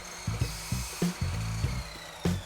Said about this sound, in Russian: Сейчас тоже подровняю на пиле их.